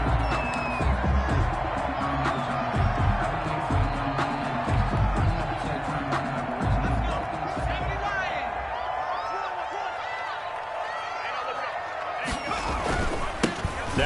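A stadium crowd roars and cheers steadily in an NFL video game before a Tennessee Titans versus Indianapolis Colts matchup, a dense continuous wash of noise under a commentator's voice.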